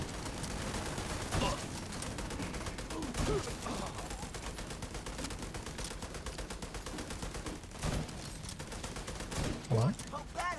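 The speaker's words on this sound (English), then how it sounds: "It's gonna sound so punchy with whatever mod I have on the muzzle." Video game gunfire from a weapon with a muzzle mod cracks in scattered bursts over dense background noise, with some talk mixed in.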